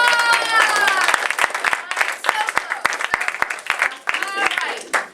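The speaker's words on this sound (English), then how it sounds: "a round of applause!" Audience applause at an improv workshop, a dense burst of clapping that runs for several seconds and thins with sharp individual claps near the end, with voices and cheering mixed in.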